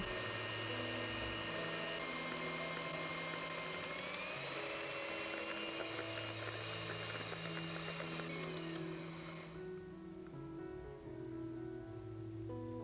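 A steady electric whir of a kitchen mixer whipping soft butter runs continuously, loud and close, its pitch shifting slightly before easing off near the end.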